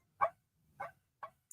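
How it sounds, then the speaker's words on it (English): A backyard dog barks three short times at a distance, with quiet gaps between the barks and no talk over them. "Damn backyard dog."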